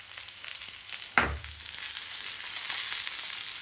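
Curry leaves and poppy seeds frying in oil in a pan while cooking a mutton varuval, a soft steady sizzle with a sharp crackling burst as they hit the oil.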